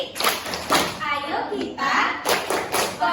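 Classroom of primary school children doing a rhythmic concentration clap, a series of sharp group claps and thuds in bursts, mixed with a teacher's voice and children chanting along.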